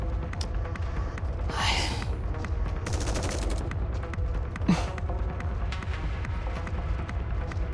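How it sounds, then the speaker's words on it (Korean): Mass-produced Nikkes fire at Dorothy in the mobile game NIKKE, scattered shots and bursts crackling over a steady low game background, with a loud whooshing burst early on and a sharp crack near the end. "양산형 니케들이 도로시를 향해 총을 쏜다"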